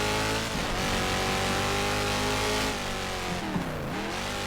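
Race car engine at full throttle in the GTR2 racing game, a loud, sustained revving drone rising in pitch through gear changes, with dips in pitch as it shifts.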